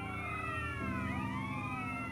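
Several overlapping wailing police sirens chase the player in the video game GTA San Andreas, loud and continuous over a steady engine drone, with no speech.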